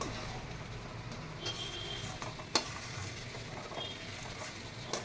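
Mango, sugar and turmeric mixture stirred in a pan, a soft continuous bubbling sizzle with light scraping and a sharp clink midway, fairly quiet.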